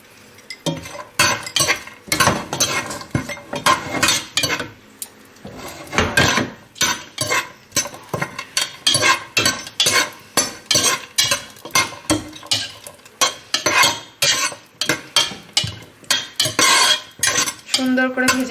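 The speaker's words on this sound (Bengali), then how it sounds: "এবার আমি দিচ্ছি এই ড্রাই ফ্রুটসগুলো, কাজু কিশমিশ, এগুলোকে একটু ভেজে নেবো ফার্স্টেই।" A spoon scrapes and clinks against a metal pan while cashews and raisins fry, with rapid, repeated stirring strikes in bursts, loud and close, and no talk.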